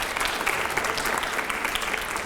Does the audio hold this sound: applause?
yes